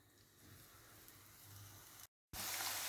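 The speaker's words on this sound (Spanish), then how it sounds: "Cuando el aceite esté bien caliente, colocamos con cuidado los bastones" Cassava sticks fry in hot oil, a steady, soft sizzle that cuts out for a moment and then returns louder and brighter.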